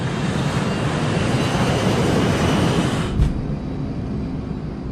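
A test jet roars down the runway on its takeoff run, a loud, broad engine rush with deep rumble underneath, easing slightly in the last seconds as it lifts off.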